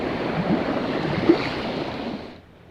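Steady wind gusts over open saltwater while fly fishing for sea-run cutthroat trout, a broad close rushing roar with a brief bump, fading out near the end; no talking.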